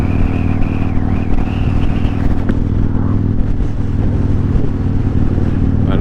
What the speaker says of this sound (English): Another motorcycle bro.